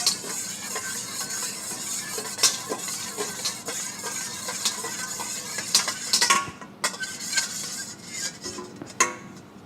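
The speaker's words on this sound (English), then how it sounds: "First, crack the eggs. Before adding the sugar, you should whisk them up." Eggs are whisked in a bowl for cookie dough, with quick repeated clinks and scrapes of metal against the bowl in an irregular rhythm, close and fairly loud, with no talk.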